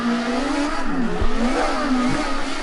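A Ford race car in a racing video game, its engine revving and rising in pitch as the rear tyres spin uphill, loud and continuous with brief dips between surges.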